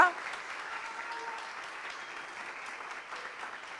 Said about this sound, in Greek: Ένα μεγάλο χειροκρότημα, παρακαλώ, στη λίστα 40 Under 40 του 2023